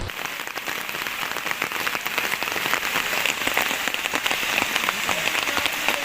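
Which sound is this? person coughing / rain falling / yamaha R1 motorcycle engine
rain falling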